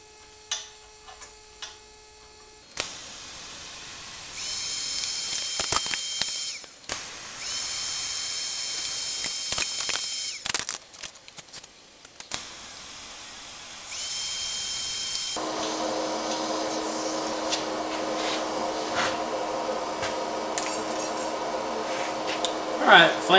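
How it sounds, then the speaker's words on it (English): Welding a flange onto a turbo log manifold: bursts of steady crackling, hissing arc noise starting and stopping, then a longer continuous stretch, close and moderately loud, with brief clicks between welds. "we're only going to weld 1 1/2 inches or so between the bolts"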